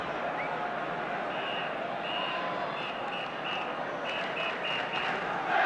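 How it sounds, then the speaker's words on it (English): A spectator in the crowd at the 1975 League Cup Final football match between Aston Villa and Norwich City whistles a string of short, shrill blasts over the steady roar of the stadium crowd. "there's a phantom whistler in the crowd"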